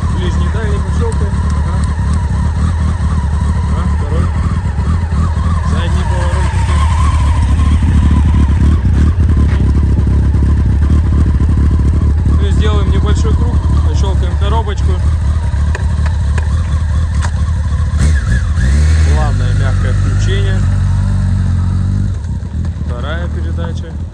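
Honda X11 motorcycle engine running steadily after starting, a continuous low rumble for most of the clip with revs shifting near the end, while a person talks over it.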